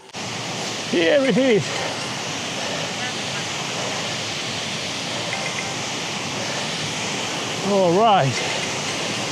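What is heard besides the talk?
waterfall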